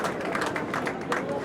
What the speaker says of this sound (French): On peut applaudir, ça n'est pas interdit, c'est même encouragé